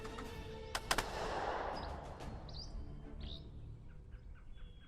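Gunfire sound effects from the hex-based squad tactics video game Second Front: sharp bursts near the start, then scattered shots and crackles fading out, with faint chirping birdlike effects in the background.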